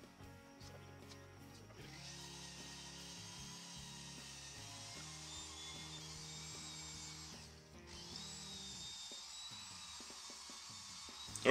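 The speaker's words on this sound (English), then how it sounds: "taking the wire wheel to the actual shaft itself" A wire wheel on a power tool grinds rust and grime off a John Deere 566 round baler PTO shaft, giving a steady scraping whir with a brief dip in the middle, close and alone.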